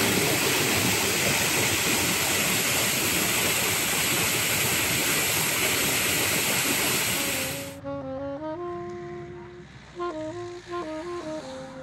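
Flowing water rushes loudly and steadily at an old water-wheel-powered diamond cutting factory in the High Jura, France, then cuts off abruptly, leaving quieter background with a few tonal sounds.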